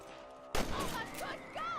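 A rifle fires at rabbits in Red Dead Redemption, one sharp, loud shot cracking out, then game sounds and faint chatter following.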